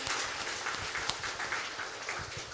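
Applause for Dr. Weni at a health talk show in Bojonegoro, a sustained crowd of clapping hands filling the room, moderately loud and even from start to finish.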